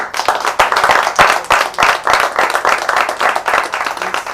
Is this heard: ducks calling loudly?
no